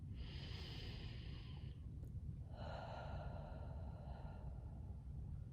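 Slow, deep breaths during a guided meditation: a long inhale, a short pause, then a long exhale, faint and close with no talking.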